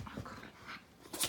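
A dog growls and whimpers in short, close bursts, with a brief louder yelp-like burst near the end. The sounds are moderately loud and there is no talk.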